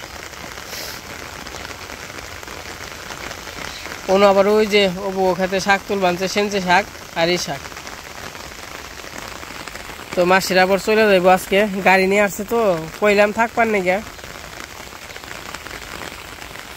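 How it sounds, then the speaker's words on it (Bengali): Steady rain patters on surfaces throughout, a continuous hiss that stays beneath a voice as she talks in two stretches. "আজকে 12টার পর থেকে একটু পর পর বৃষ্টি"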